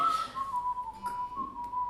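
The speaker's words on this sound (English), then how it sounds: "can anybody whistle?" A person whistles a thin, steady melody in a room, the clear tone sliding gently between a few held notes for about two seconds, alone without talking.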